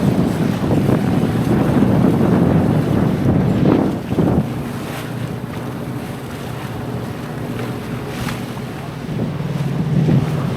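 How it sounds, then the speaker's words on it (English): Strong wind roars across the microphone aboard a 40ft sailboat heading into breezy, whitecapped water, with rushing air and water noise throughout. "Looks a little breezy out."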